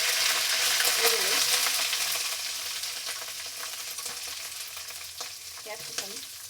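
Onion frying in a pan with green chili and curry leaves for shavige upma, a dense, loud sizzle that eases slightly over time, with soft stirring scrapes and short bits of speech.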